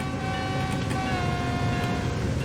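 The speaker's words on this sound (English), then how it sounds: "I got the horn signal off in time." Train horn in Train Sim World 3 sounding as a steady, loud sustained tone over continuous rumbling train noise, holding for the whole short stretch.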